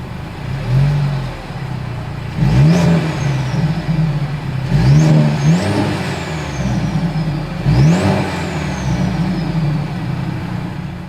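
A Mercedes-Benz C 300 engine revs three times from idle, each blip climbing quickly and falling back, with a deep exhaust note close to the car and a steady idle between the revs.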